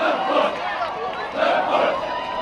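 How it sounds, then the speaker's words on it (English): Graduating Marines running in formation and chanting a loud motivational cadence, a massed group of voices rising and falling in rhythmic bursts. "All graduating Marines run in formation while singing motivational cadence, loudly signaling successful completion of recruit training."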